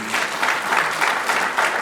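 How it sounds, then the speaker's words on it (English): Audience clapping at a dental nursing academy graduation ceremony, a brief burst of steady, fairly close applause with a slightly pulsing rhythm. "So let's clap this for Professor Chitonga."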